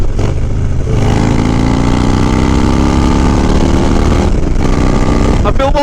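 A carbureted twin cam engine on a Harley-Davidson Dyna runs loud and close with a deep, lumpy V-twin rumble and a rising rev midway through, while someone talks over it.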